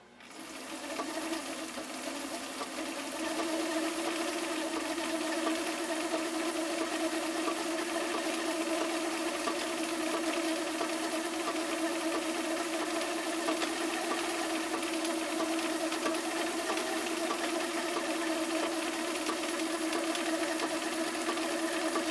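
A restored Viking 6370 sewing machine runs steadily while stitching a double action stitch, its needle mechanism whirring in a continuous, even drone at close range with no talking.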